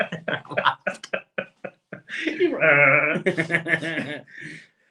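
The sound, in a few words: person imitating a sheep bleat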